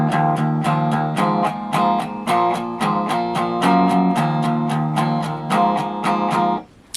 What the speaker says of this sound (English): So the main riff to the verse is going to sound something like this.